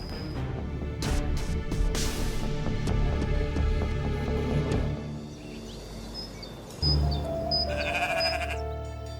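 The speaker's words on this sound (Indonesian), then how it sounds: "Kambing siapa tuh bawa-bawa?" A goat bleats several times up close, with loud wavering cries over a continuous outdoor background hum. A quieter bleat follows near the end.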